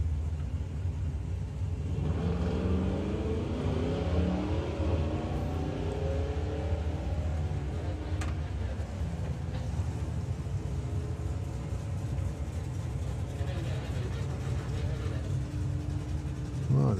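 A Dodge drag racing car at a nostalgia drag meet launches down the strip, a loud sustained engine rumble with rising revs that holds steady throughout, heard at a distance over crowd and track ambience.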